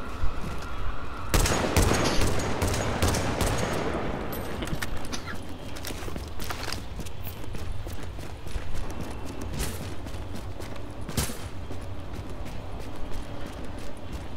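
Gunfire in The Division video game, rapid bursts of automatic shots with sharp cracks scattered over a dense, continuous game background, loud and near, with brief talk.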